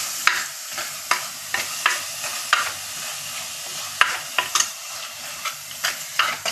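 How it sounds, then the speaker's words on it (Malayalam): Ginger, garlic and shallot paste sautés in a pan for rasam, a steady sizzle broken by regular scraping strokes of a spoon stirring, with no talking. "കൊച്ചുള്ളി പേസ്റ്റ് അത് നമ്മൾ നല്ല വാട്ടണം."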